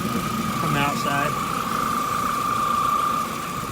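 A car fitted with a cold air intake idles steadily behind the vehicle, a loud constant hum with a prominent whine, a brief rising whistle-like chirp early on.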